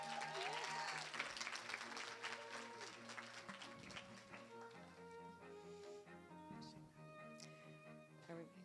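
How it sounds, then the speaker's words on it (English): Applause at a Mrs New York pageant for the contestant sisterhood, a loud crowd clapping that fades under music as the evening gown segment begins. "Let's give a round of applause for our beautiful sisterhood."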